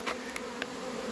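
Young honeybees fly around their hive, giving a soft, steady buzzing hum with a few brief louder passes as single bees fly close, and no voices.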